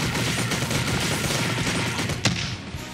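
Fugo's rapid barrage attack from a Roblox battlegrounds game, a dense stream of quick hits in steady succession ending in one sharp crack, with no talking over it.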